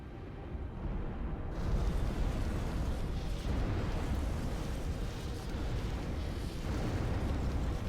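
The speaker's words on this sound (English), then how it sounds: "They get a nice bombing run on the arty post." Bombing-run explosions in the real-time strategy game Ashes of the Singularity, a dense, continuous roaring rumble of blasts that holds steady and loud throughout.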